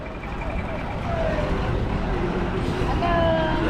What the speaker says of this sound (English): Welcome to the delicious mayhem of an Indian bus station.